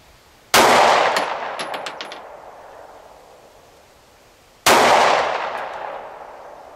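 A Beretta Nano pistol fires two sharp, loud single shots about four seconds apart. Each crack is followed by a long ringing decay, and faint metallic clinks sound after the first shot.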